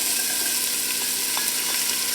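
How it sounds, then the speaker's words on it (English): Onion and green pepper, some of it frozen, hit a hot soup pot and sizzle with a continuous bright hiss, steady and close, with faint stirring clicks. "now we're going to add our onion and green pepper"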